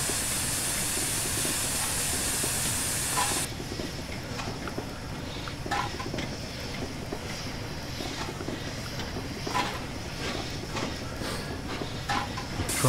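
The Flying Scotsman steam locomotive runs over Shap in a train simulator, giving a continuous loud steam hiss and rolling rumble; the hiss drops off early, leaving steady running noise with faint rhythmic clanks.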